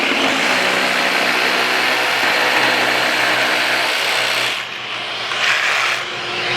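A Festool Carvex jigsaw with carbide guides saws through 2x lumber, a loud, close, continuous buzzing rasp that dips briefly near the end of the cut and then finishes.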